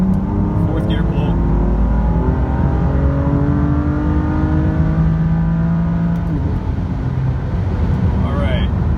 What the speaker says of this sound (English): Might have to settle for a fourth gear pull.